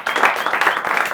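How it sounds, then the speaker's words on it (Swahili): A studio audience claps for a guest, a short burst of dense, steady applause at close range. "Wapi makofi yake?"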